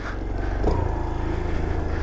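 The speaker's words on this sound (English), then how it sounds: "It's been sitting here running, idling." A cheap Grom clone motorcycle's small engine idles steadily nearby, a continuous low throbbing drone that stays level throughout with no revving.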